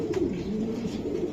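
Racing pigeons coo up close in a short, low, burbling run with no voices present.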